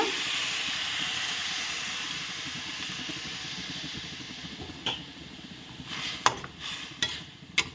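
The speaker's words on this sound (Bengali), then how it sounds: "বড়িটা তো ভেজে নিয়েছি, আর জলটা দিলাম" Water poured into a hot pan of fried lentil dumplings and taro gives a broad steaming hiss that slowly fades. Sharp clinks from a utensil against the pan follow toward the end.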